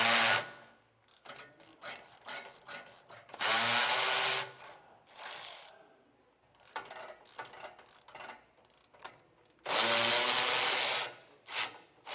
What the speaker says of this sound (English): We're going to be using a 13mm socket to take off these nuts here